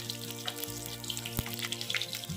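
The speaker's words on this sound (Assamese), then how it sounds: "এইখিনি অলপমান এইদৰে ভাজি লওঁ" Green chili split into four, a bay leaf and a dried red chili frying in hot oil in a pan, giving a steady close sizzle with scattered crackles and one sharp pop.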